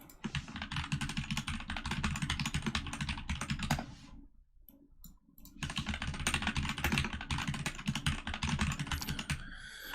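Rapid clicky typing on a Discord mechanical keyboard, dense bursts of keystrokes up close, breaking off briefly near the middle before resuming just as busily, with no talk.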